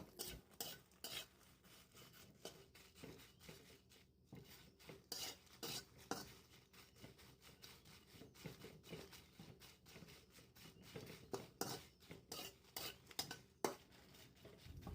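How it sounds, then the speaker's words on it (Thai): Dried chilies and a little salt are stir-roasted in a dry pan, with a utensil scraping and clattering against the metal in quick irregular strokes, close and fairly quiet, with a faint crackle underneath. "ก่อนอื่นก็เอาพริกแห้งมาคั่วนะคะไม่ลุงจะใส่เกลือลงไปเล็กน้อยนะ"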